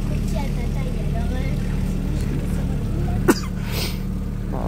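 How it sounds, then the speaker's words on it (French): A single short sneeze cuts through the steady low drone of a motorboat on the Saône river, with voices talking around it over the engine hum. "Ah, même sur l'eau, j'éternue."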